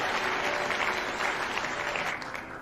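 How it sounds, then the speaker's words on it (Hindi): An audience at a DXN business talk claps in sustained, dense applause, loud and steady throughout with no gaps. "एक जोरदार ताली।"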